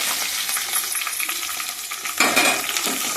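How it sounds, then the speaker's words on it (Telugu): Onions, green chillies and curry leaves hit hot oil in a pan and fry with a loud, steady sizzle, with a sharper burst of crackling near the end as more goes in; no voices. "ఇందాక కోసి పెట్టుకున్న ఉల్లిపాయలు ఉన్నాయి కదా అవి వేసుకుంటున్నాను."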